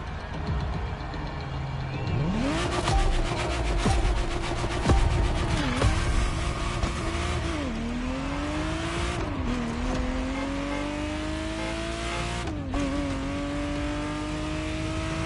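A Ferrari Testarossa in The Crew Motorfest, its engine revving up through repeated gear changes, each rising howl dropping and climbing again, loud and close with no voices.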